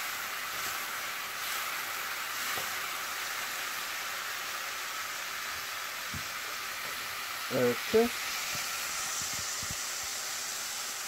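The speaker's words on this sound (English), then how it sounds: "Let's leave it sizzle a little bit more" Ground beef for hamburgers sizzles steadily in a pan as an even, hissing frying noise, with a brief voice speaking over it partway through.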